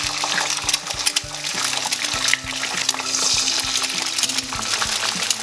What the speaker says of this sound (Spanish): voy a cascar los dos huevos y los tiro directamente en la sartén